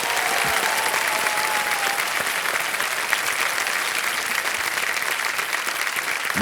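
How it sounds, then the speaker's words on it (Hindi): A game-show studio audience applauds a leading contestant, sustained loud and even clapping from many hands filling the room without a break for over six seconds. "तालियां बजते रहें इनके लिए।"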